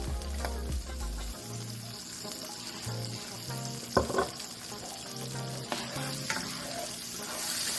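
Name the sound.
butter and olive oil sizzling in a frying pan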